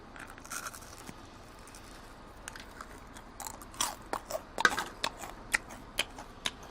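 Close crunchy chewing and biting on salt-grilled bass and bluegill, with a soft stretch at first and then a run of sharper crunches and bites that grow louder near the end.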